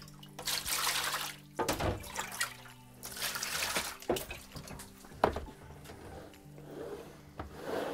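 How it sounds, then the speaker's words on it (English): A darkroom photographic print is washed in water, with repeated sloshing, rubbing swishes and trickles in bursts of splashing close by. "Another minute in there while I'm washing this print."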